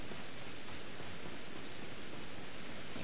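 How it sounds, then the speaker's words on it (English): Steady rain weather in the video game Pokémon Legends: Arceus, a dense, even hiss of falling rain throughout with no gaps, moderately loud and with no voices. "Holy rain, I forgot about weather."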